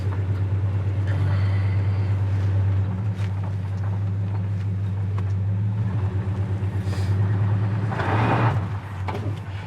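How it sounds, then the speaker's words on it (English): A 1969 Chevy El Camino pulls away on gravel with a brief wheelspin and a smooth gear shift, its deep engine drone steady and close, with a short rise in tire and gravel noise near the end. "Camino got a little spin in there in the gravel. Nice smooth shift."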